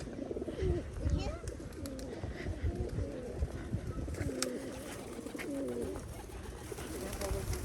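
Soft, repeated pigeon coos in low murmuring phrases from pigeons sitting in a row in Gagarin Park, Kryvyi Rih, with outdoor background noise and faint voices nearby.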